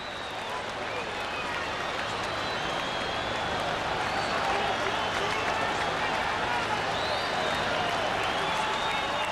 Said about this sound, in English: Crowd didn't realize that Kruk got a piece of it, and they roared.